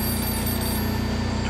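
A telephone rings inside a mobile coffee business, a steady electronic ringing tone that runs continuously and fairly loud, with no talk over it.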